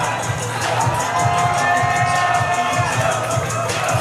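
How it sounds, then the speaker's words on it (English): A pro wrestling crowd at a West Coast Pro anniversary show cheers and shouts continuously, a loud roaring mass of voices with rhythmic pulses like chanting or stomping throughout. "Listen to this crowd."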